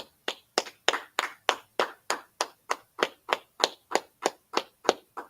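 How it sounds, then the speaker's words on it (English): A congregation at a Sabbath service claps hands in a steady unison beat, about sixteen sharp, evenly spaced claps ringing out loud and close with no talking. "Let's clap it up."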